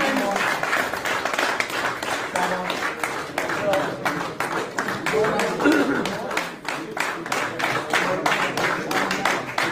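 Audience applause welcomes new party members joining the BJP at a political event, dense rapid clapping from a crowd sustained throughout while someone talks over it.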